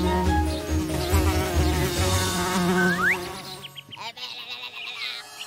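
A cartoon bee buzzes loudly and close with a wavering, insect-like drone, then breaks into scattered, sputtering buzzes before fading.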